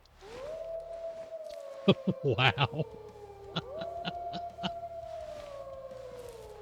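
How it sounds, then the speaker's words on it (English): Wolves in the hunting game Way of the Hunter let out long howls that rise and then hold steady, moderately distant, interrupted by sharp clicks and a brief spoken exclamation. "I haven't heard these wolves call out yet."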